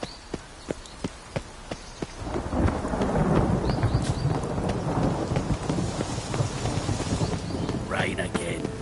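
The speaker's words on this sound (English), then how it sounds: "Rain again. Damn mages." Heavy rain pours in The Witcher 3 as thunder rumbles through a storm, a few sharp dripping taps first giving way to a dense, loud downpour with rolling thunder.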